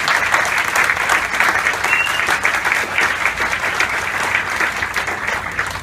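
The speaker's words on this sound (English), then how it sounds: "I think that deserves another round of applause." Audience applause at a city celebration for a new police chief in Bridgeport, a steady, dense wash of clapping that holds evenly for about six seconds with no talk over it.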